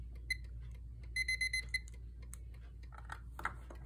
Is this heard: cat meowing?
no